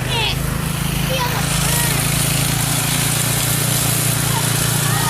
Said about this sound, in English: the Snowblower in action here